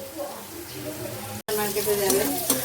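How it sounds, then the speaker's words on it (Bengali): Dried fish shutki bhorta being sautéed in a pan, with a steady sizzle and stirring scrapes that cut off briefly and then resume louder, while someone talks over the cooking. "চলছে এখনো কষানো আরও অনেকটা প্রসেসিং বাকি রয়েছে"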